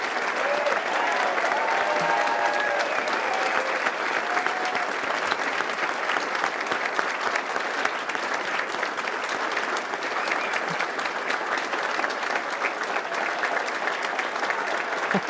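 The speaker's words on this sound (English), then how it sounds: "Please give one last round of applause to the undergraduate class of 2021" Sustained audience applause fills an engineering graduation ceremony honoring an undergraduate class, a dense, steady wash of many hands clapping at even loudness throughout, with faint voices mixed in.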